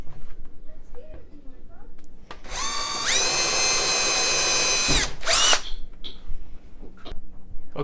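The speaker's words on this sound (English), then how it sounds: "Let me get these 6 holes drilled up right now." A power drill whirs up to speed and runs steadily for a couple of seconds, then spins again briefly, close by, with quiet handling noise around it, while drilling holes to mount a spice rack.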